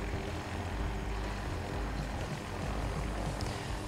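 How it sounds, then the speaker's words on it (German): Jet aircraft flying high overhead in a helicopter combat video game produce a faint, steady, distant droning hum with no talk. "Wir haben zwei Jets in der Luft."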